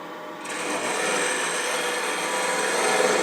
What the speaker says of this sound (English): So I'm going to use a 3/8 inch bowl gouge.